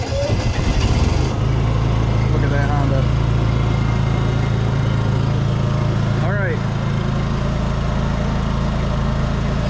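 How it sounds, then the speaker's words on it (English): A portable generator at an RV toy hauler conversion cranks and fires up, then settles into a steady, loud running drone that continues to the end, with a voice briefly heard over it. "plug it into the generator, and we fire up the generator"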